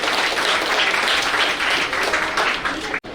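Crowd applause at a school students' felicitation program, loud, continuous clapping from many people filling the hall, cut off abruptly near the end.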